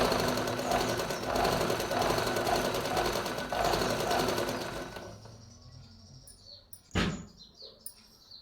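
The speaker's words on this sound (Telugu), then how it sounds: "దారం చేయితో పట్టుకోవాలి చూడండి వీలు ఎలా తిరిగితే అలాగా దారం చుట్టుకుంటుంది" A sewing machine winding thread onto its bobbin whirs in a fast, steady mechanical buzz for about five seconds, then stops, leaving a quiet room with a sharp click and faint bird chirps.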